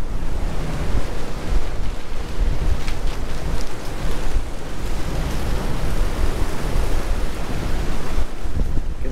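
Continuous broad rushing of water pouring through a dam spillway at the Tobacco River cofferdam in icy conditions, steady and loud with wind buffeting the microphone, no voices.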